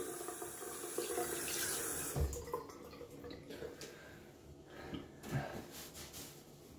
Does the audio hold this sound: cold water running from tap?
yes